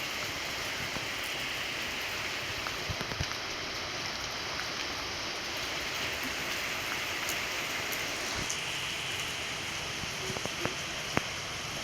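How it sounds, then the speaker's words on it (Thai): Steady rain falls continuously, a dense even hiss of drops on surfaces with occasional closer drips and taps, with no voices. "หนีฝนเนาะมอลี่อยู่บนนี่"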